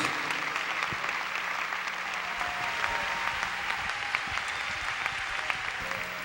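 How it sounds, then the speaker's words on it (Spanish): A church congregation applauds together during a Spanish-language service, a dense, steady clapping that fills the room and holds at an even level from start to finish. "vamos a recibir una vez más con un aplauso a Dios"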